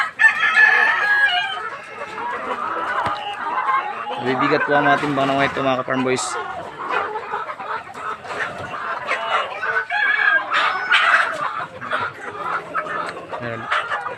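Rhode Island and Hubbard Heritage roosters crow and cluck close by, one long crow standing out mid-clip among steady clucking, while someone talks over them throughout.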